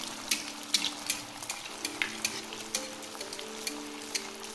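Carrot gulab jamun frying in hot oil, a steady soft sizzle with light, irregular spoon clicks and stirring taps close by, no voices.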